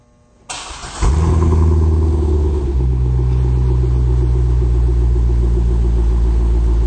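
A 2005 C6 Corvette with a B&B Route 66 exhaust and oval tips cranks over and fires, settling into a loud, steady, deep rumbling idle close by, with no talking.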